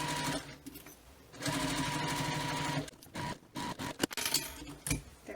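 A sewing machine stitches a bag lining closed, with a short run, a longer steady burst of stitching, then several quick stop-start bursts, close and clear.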